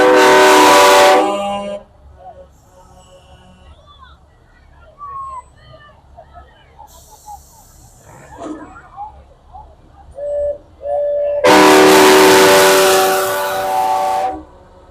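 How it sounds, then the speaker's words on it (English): Big rig tractors in a downtown Christmas parade sound loud, train-like air horns in two sustained blasts at the start and end, with crowd noise and scattered voices in the gap. "Those horns sound like train horns."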